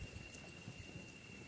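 Light drizzle falls at night on a slippery mountain trail after rain, a faint, steady hiss of fine drops with no voices.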